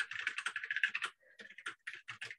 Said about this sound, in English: apologies if my keyboard is a bit loud